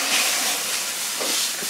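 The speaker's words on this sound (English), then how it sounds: "these steaks have been seared pretty well" Venison steaks sear in a hot pan, giving a loud, continuous broadband sizzle and hiss with no talking.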